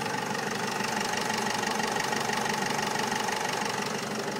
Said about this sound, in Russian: просто идеально работа двигателя